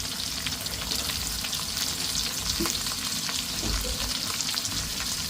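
Mustard seeds, cumin, shallots, curry leaves and green chili fry in hot oil with a dense, constant sizzle and crackle. It is close and steady, with a few faint knocks of stirring and no speech.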